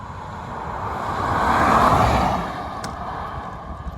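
Long-wheelbase VW ID. Buzz electric van being driven, a steady road and tyre rumble that swells as if passing or accelerating, then settles, with no speech.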